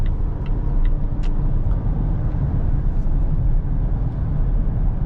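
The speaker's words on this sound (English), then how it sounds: "Press the pedal and the car goes." Inside a 2022 Volvo S60 T8 Polestar under acceleration, a steady broadband drone of engine and road noise fills the cabin, even in loudness throughout with a few faint high ticks.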